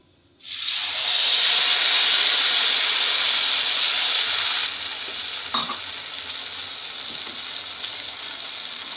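Spice paste for a dhaba-style paneer masala hitting hot oil in a pan, bursting into a loud, close, steady sizzle that eases slightly after a few seconds, with a brief clink of a utensil and no voices.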